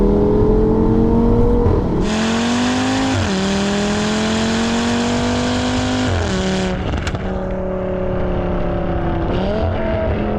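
A 420 hp Audi RS3 8P revs hard and accelerates, its loud engine note climbing through repeated gear changes with brief dips between pulls, heard from inside the car with no talking.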